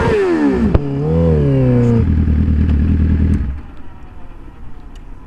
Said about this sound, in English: I revved it at that guy